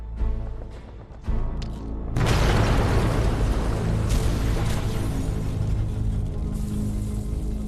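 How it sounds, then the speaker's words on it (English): A huge explosion erupts with a sudden deep boom, then a long roaring rumble of debris and crumbling that stays loud for several seconds. "The explosion succeeds and causes the collapse of the central section of the fort's north wall"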